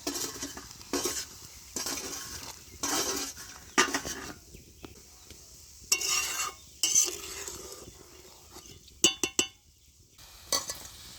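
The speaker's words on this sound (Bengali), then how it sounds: "মাছ ভাজাগুলো দিয়ে দেবো।" Fried puti fish go into a pan of simmering water with salt and turmeric and are stirred. A metal spoon scrapes and clatters in short, irregular bursts over a faint sizzle, with sharp clinks near the end.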